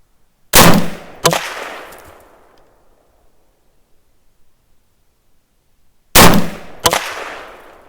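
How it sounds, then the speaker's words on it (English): A 5.56 and a 7.62 AR pistol fire at a shooting bench, four loud, close shots in two quick pairs about five seconds apart, each crack followed by a long ringing decay into silence. "shoot another 10 just to make sure that everything functions properly on both cartridges"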